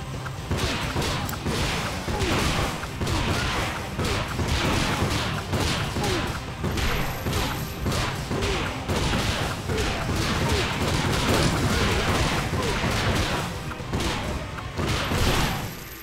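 Bombs and combat impacts in the fighting game One Finger Death Punch burst in rapid succession, a dense, loud stream of crashing hits and blasts with faint commentary beneath.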